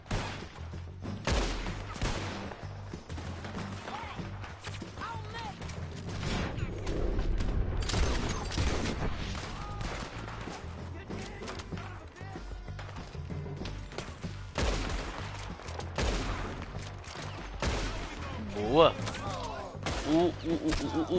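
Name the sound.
gunfire in the video game Red Dead Redemption 2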